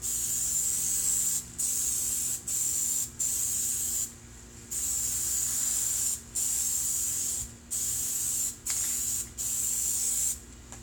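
An aerosol can sprays heavy coats of Plasti Dip onto a chrome strip on a Mercedes S500: about eight close, loud hissing bursts, each a second or two long, separated by brief pauses.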